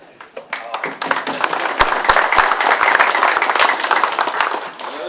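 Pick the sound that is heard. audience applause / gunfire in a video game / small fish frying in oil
audience applause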